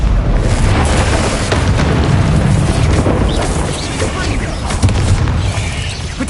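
Repeated Confringo fire-spell explosions in the Hogwarts Legacy video game form a loud, continuous barrage of booming blasts with dense crackling across the whole stretch, and a voice sits faintly within the din.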